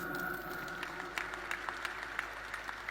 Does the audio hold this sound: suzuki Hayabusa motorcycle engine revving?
no